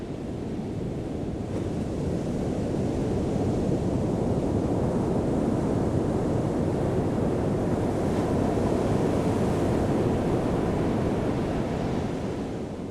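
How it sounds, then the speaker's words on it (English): Ocean waves roll and wash in a continuous, loud surf roar that swells gently and holds steady, with some wind rumble and no voices. "take time to enjoy the sound of the waves"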